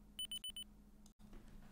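Synthesized alarm made of four short, evenly spaced electronic beeps separated by pauses, loud and clear over a low steady hum, followed by quieter background noise.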